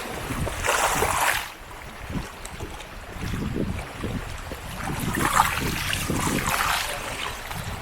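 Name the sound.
river waves splashing during bamboo rafting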